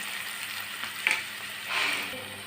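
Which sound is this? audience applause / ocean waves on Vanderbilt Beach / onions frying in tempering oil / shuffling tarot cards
onions frying in tempering oil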